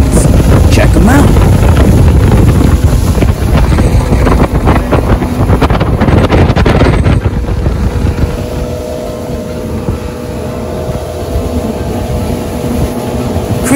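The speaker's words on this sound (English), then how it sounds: "We saw some really fast jet skis." Loud, rushing engine and water noise from fast jet skis, with heavy wind buffeting on the microphone, easing somewhat into a steadier motor drone later.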